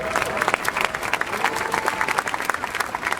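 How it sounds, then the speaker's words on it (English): A crowd applauds concert promoter Connie Mack at an outdoor statue dedication for boxer Larry Holmes, brisk overlapping clapping with a few louder claps standing out, moderately distant and steady for a few seconds. "Give him a big round of applause."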